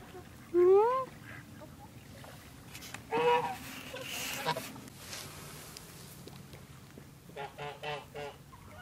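Geese honk in a few separate loud calls, first near the start and again a few seconds later, followed by softer chattering calls toward the end over a quiet background.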